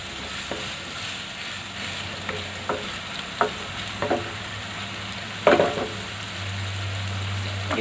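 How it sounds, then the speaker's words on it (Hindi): Onions sizzle steadily in hot oil in a pan while being cooked for paneer keema, with scattered clinks and scrapes of stirring; no talking. "प्याज को हम हल्का ब्राउन कर लेंगे।"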